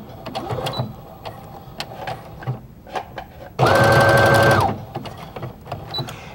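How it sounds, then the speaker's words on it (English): A sewing machine stitches a quarter inch in along the hemline of a knit garment, one loud steady run of about a second between quieter handling noises. "So I'm going to stitch along the hemline here."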